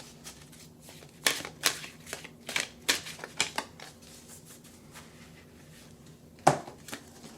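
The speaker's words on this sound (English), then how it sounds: "We're going to shuffle, shuffle, shuffle." Oracle cards are shuffled by hand in a quiet room, making a run of crisp riffling flicks and soft slaps, close and fairly faint, with a sharper final snap near the end.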